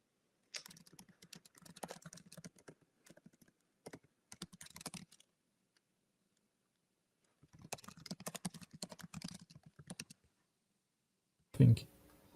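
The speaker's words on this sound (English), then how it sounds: "I'm typing questions to Fabien." Bursts of rapid key clicks from a computer keyboard as questions are typed during a podcast call, coming in several clustered runs separated by pauses, close and fairly quiet, with a brief louder knock near the end.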